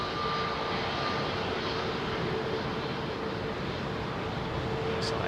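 An Emirates airliner taxiing at Heathrow Airport gives a continuous broad engine rumble and whine, steady and moderately loud throughout.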